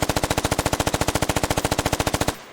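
Automatic rifle from the Squad video game firing one long sustained burst of about thirty rapid, evenly spaced loud shots, then stopping abruptly into a brief quiet tail.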